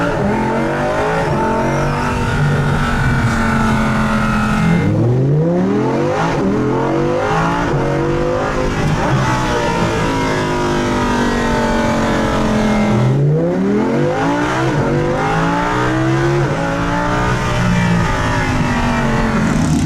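Italdesign Zerouno supercar driving on board, a loud continuous engine note rising and falling through repeated sweeping revs and gear changes across the whole stretch, with no talking.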